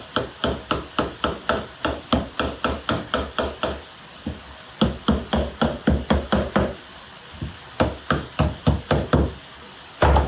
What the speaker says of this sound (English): Knock those back in place.